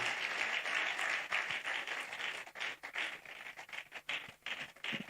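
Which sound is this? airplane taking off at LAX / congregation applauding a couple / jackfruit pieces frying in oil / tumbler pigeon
congregation applauding a couple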